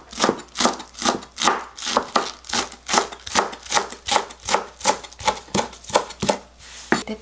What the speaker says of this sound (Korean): 대파를 조금 썰어 줄게요